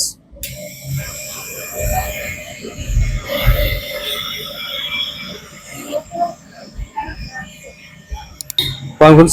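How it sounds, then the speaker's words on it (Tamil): A Lion mini wire stripping machine works through heavy wire, giving irregular creaking, grinding mechanical noise with thumps and rattles, loud and close, ending in a sharp burst. "இந்த மிஷின் எப்படி ஆப்ரேட் பண்றங்கிற வீடியோ உங்களுக்கு இப்போ நான் காட்டுறேன்."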